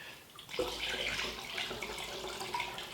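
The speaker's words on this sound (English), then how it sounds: "So we're going to add a little bit more water this time" Water poured into a mixture in a container, a steady close splashing stream that starts abruptly and runs on at moderate loudness with no voices.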